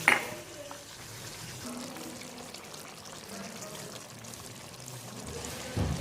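Chicken and green chillies drop into a cooking pot, a soft pouring, wet tumble after an initial clatter, then a low steady simmer and light sizzle, with a clunk near the end.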